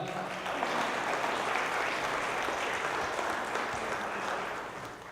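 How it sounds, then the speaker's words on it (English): An audience at a live web talent show quarter-final gives a steady, dense round of clapping that holds for several seconds and then begins to taper off. "big round of applause for Arlene Woww."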